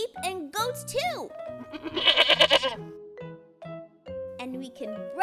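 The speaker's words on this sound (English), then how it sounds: "And sheep and goats too." Sheep and goats on a farm bleat in a loud, wavering cluster midway, with a voice speaking before and after.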